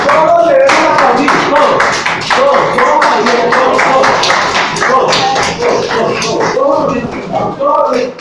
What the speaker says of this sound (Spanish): Todos debemos aplaudir.